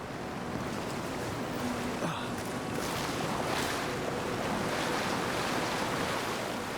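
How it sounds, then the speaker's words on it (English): A small waterfall in the video game Avowed gives a steady, full rush of falling water that fills the whole stretch without break, with no talking over it. "Nice little waterfall here."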